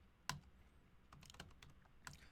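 Typing on a computer keyboard while working through Kubernetes configuration, a few scattered clicky keystrokes, one sharper tap then softer taps, fairly quiet and close with no talking.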